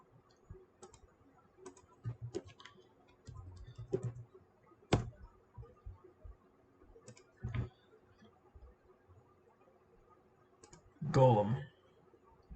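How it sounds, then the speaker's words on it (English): Scattered sharp clicks of a computer mouse, some in quick double pairs, faint and close in a quiet room, with a brief burst of speech near the end. "My mouse double click wants to screw me up"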